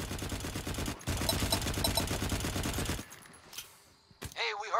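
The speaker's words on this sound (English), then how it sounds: "Hey, we heard gunfire." Rapid bursts of automatic gunfire in the video game Firefall rattle loudly for about three seconds, then stop, followed by a few scattered noises and a voice.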